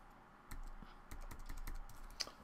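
Typing on a computer keyboard during a GameSalad tutorial, a quick series of close, crisp key clicks in uneven bursts over quiet room tone, with one sharper tap near the end.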